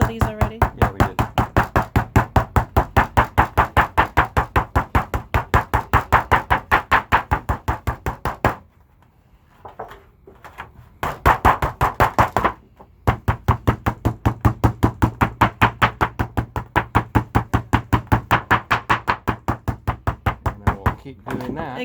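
A ball peen hammer pounds aluminum sheet in fast, steady runs of sharp metallic knocks, loud and close. The runs break off for a couple of short pauses and then continue at the same brisk pace.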